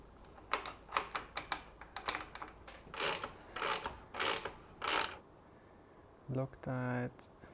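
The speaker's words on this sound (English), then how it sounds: "Ratchet spanner, really great." A ratchet spanner tightens 8mm roof rack bolts on a Land Rover Discovery, clicking in several short, sharp bursts of ratcheting, close and clear, with a voice briefly heard near the end.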